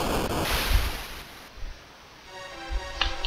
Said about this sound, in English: Here we are, falling down a waterfall.